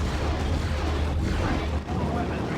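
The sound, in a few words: gunfire in a video game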